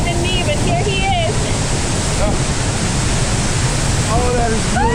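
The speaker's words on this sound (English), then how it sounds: "this waterfall is so incredible" A waterfall on a Southern California hike gives a constant, loud roar of rushing water, while people nearby talk and exclaim over it.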